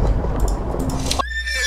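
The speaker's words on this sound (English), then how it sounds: "Wait, he was riding a horse!" A horse in the Minecraft video game neighs loudly and close, a single whinny heard clearly with no talk over it.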